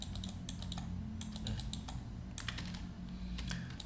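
Soft clicks of computer keyboard shortcuts pressed during 3D modelling in Maya, scattered quick keystrokes over a low steady hum, faint and close.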